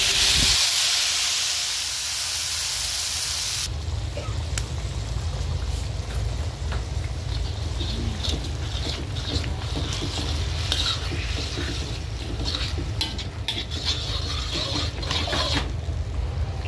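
Vegetables fry and hiss loudly in a pan while being stirred, a steady close sizzle with scraping strokes, breakfast fried kuey teow in progress, no talking.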